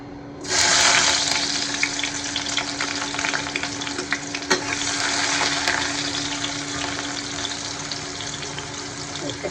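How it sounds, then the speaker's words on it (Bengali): Chopped onion with garlic and cardamom sizzling and frying in a wok, a loud, steady hiss that starts abruptly as the onion goes in and holds dense and continuous at close range. "পেঁয়াজটা আমি একটু ভেজে দিচ্ছি।"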